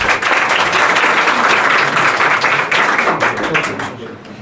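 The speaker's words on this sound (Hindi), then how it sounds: "एक बार जोरदार ताली हो जाए।" Loud, dense applause from an audience at a Class 10 and 12 student award ceremony, sustained clapping close by that tapers off near the end.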